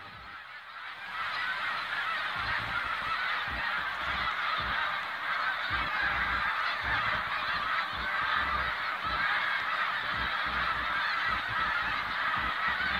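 A large flock of snow geese honks continuously, a dense, loud chorus of overlapping calls that starts after a brief quieter moment and holds steady to the end, with no voices.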